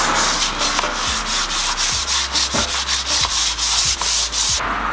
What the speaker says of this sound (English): The lip's now been scuffed back with some 360 grit sandpaper.